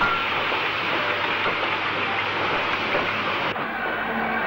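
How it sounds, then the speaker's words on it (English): WD class 2-8-0 steam locomotive 90315 pulling away with an iron ore freight train in the 1960s, heard as a steady, loud hissing and rumbling roar that drops off sharply near the end. "Banbury's WD280 90315 gets the signal to restart from the centre roads with a freight including iron ore again."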